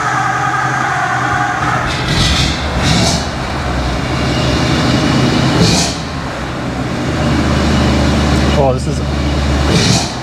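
A car engine idles high just after the car comes down off jack stands, a steady loud drone with a person speaking briefly over it.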